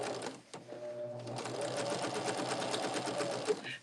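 Sewing machine stitching a quilt border seam on a Shooting Stars quilt, a steady close mechanical whir with rapid needle clatter running continuously throughout, with a brief pause near the start.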